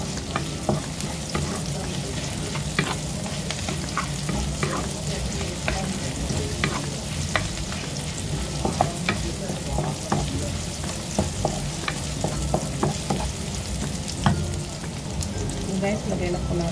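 Crabs and softened onions fry in a pan, making a loud, continuous sizzle with frequent scraping from stirring throughout.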